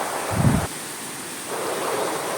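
Kappimala waterfall on a rainy day produces a steady, rushing broadband roar heard throughout, with a brief low thump near the start.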